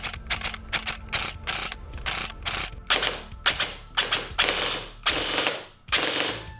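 A CYMA airsoft AEG gearbox fires repeated bursts, rapid mechanical clattering in short and longer strings separated by brief gaps, loud and close, comparing a stock motor with an aftermarket one.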